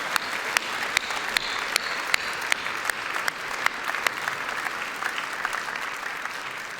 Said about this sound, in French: je voudrais qu'on l'applaudisse très très fort et qu'on le remercie fort